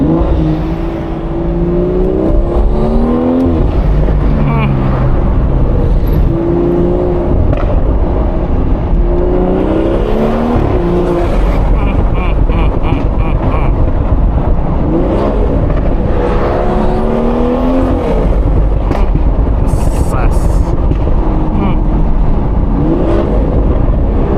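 A BMW 440i with 330 hp pulls hard through the gears from the cabin, its engine note rising and falling in repeated sweeps as the gearbox shifts, loud and continuous throughout.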